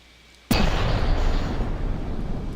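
A slow tank turret in the Land Barge video game fires a single shot: one sudden, loud blast that rolls into a heavy, sustained rumble, with no talking.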